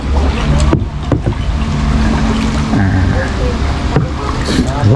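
A boat's motor drones steadily on an orchard canal in Sam Phran, Nakhon Pathom, beneath splashing water and wind buffeting the microphone, with brief thumps and faint voices mixed in.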